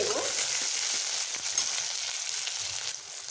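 Tomatoes and onions fry together in a pan with cardamom and cinnamon for a ridge gourd dish, giving a continuous close sizzle broken by soft stirring scrapes.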